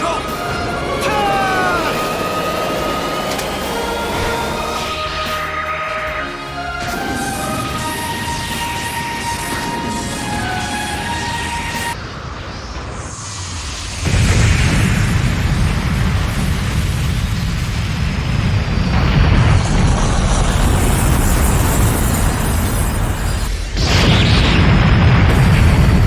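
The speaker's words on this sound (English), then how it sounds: "the Wave Motion Gun, or Yamato Cannon, and the series that inevitably homage it" A Wave Motion Gun (Yamato Cannon) firing in Super Robot Wars V, with a loud rising charge and then a sustained roaring, rumbling blast that swells again near the end, all layered over music.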